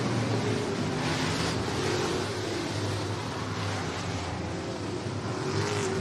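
Outlaw figure 8 race cars battle around Showtime Speedway, a steady loud roar of engines filling the track with a broad continuous drone and wavering pitch, no voices clear.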